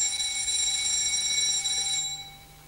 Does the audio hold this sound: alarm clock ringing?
yes